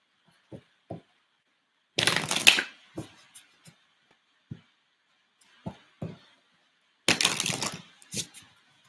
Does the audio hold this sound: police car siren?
no